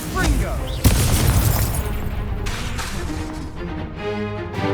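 A Confringo spell goes off in Hogwarts Legacy with a sharp, loud boom, followed by a rumbling burst and a lingering crackle while a voice speaks over the game.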